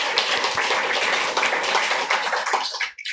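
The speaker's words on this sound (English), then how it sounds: "give them a round of applause" An audience at a poetry reading breaks into dense, steady applause that holds for a few seconds and then fades out abruptly near the end.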